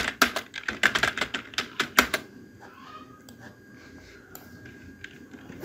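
Rapid keystrokes on a computer keyboard while configuring a router, a dense burst of clicks for about two seconds, then sparse taps over quiet room tone.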